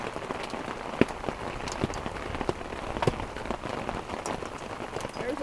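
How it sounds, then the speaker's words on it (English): Hail hammering down in a storm at a lake campsite with tents and a boat, a dense steady patter with sharper individual impacts throughout, close and fairly loud with no voices. "Look at the hail."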